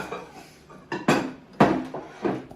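Small plates set down one after another on a kitchen surface, a few close, crisp ceramic clinks and knocks with short pauses between, no talking.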